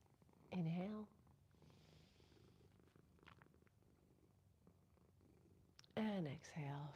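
A cat purrs steadily and softly close by, with louder tonal voice or meow-like calls rising over it near the start and again at the end.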